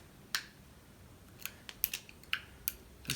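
A blade cutting a plastic part during a radiator replacement on a 2007–13 Acura MDX, a series of faint, sharp snips and clicks spaced irregularly over a quiet, hushed background.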